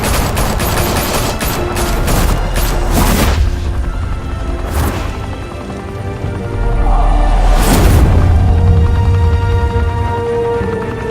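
Bursts of gunfire and heavy booming shots from an animated Batman episode, loud and repeated in rapid volleys, with a deep rumbling impact midway and dense layered music underneath.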